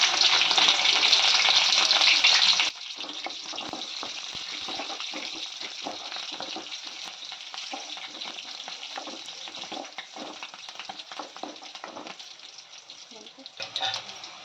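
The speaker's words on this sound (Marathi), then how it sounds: "मिरची टाकणार आहे मी याच्यामध्ये" Chili dropped into a hot pan of oil for dal palak sets off a loud burst of crackling sizzle, which then eases into a steadier, softer frying hiss with light stirring scrapes.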